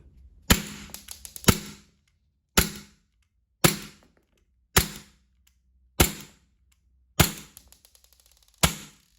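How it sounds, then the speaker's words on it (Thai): A VFC G42 airsoft pistol fires eight loud, sharp shots at uneven intervals, each a crisp crack with a short decay, and no voices in between. "เดี๋ยวจะยิงแล้วให้ดูระบบนะครับ"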